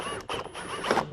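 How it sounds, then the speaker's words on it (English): A 7mm socket turns out bolts from a Chevrolet Silverado or GMC Sierra interior door panel, giving a short run of close mechanical ratcheting and creaking clicks that lasts about a second. "Remove the 2 7mm bolts inside your"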